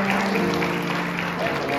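A church congregation at a homecoming service cheers and applauds, a steady wash of clapping and voices that holds at an even level throughout, with a sustained tone running underneath.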